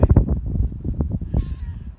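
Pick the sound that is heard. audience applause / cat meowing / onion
cat meowing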